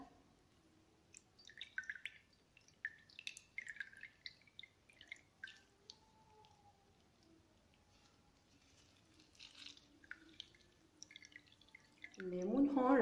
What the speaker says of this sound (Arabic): معي هون 1 كاسة مي، رح اعصر عليها هاي الليمونة يلي برشتها